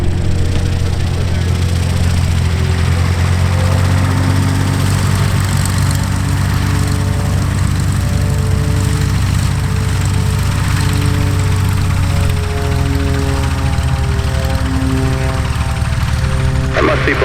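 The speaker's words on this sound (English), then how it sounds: "Seaplane coming in, you reported a mile out" A seaplane's engine drones loud and steady as the aircraft comes in to land at the EAA AirVenture Oshkosh 2018 fly-in, with a continuous low rumble and shifting tones throughout.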